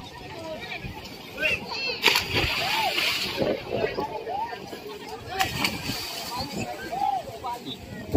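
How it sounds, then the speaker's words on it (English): Children splashing and sloshing about in the sea at Tampi-Tampi Resort, Semporna, Sabah, with scattered bursts of splashes and distant kids' voices over a busy outdoor background. "You see the children swim here."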